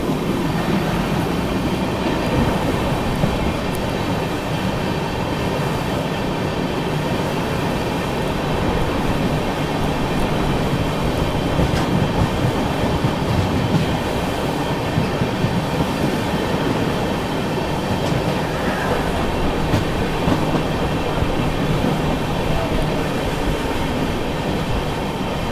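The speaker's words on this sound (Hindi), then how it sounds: "ये गई दोस्तों गोरखपुर ओखा एक्सप्रेस" Gorakhpur Okha Express passing close by, a loud, steady rumble of wheels and carriages that holds for the whole stretch, with faint wheel squeal and rattling.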